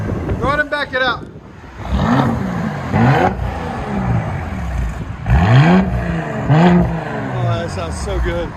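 A Mercedes GLE 43 AMG with a 3.0L bi-turbo engine revs through an aftermarket exhaust in repeated loud blips that rise and fall, heard up close with wind buffeting and a voice speaking between the revs.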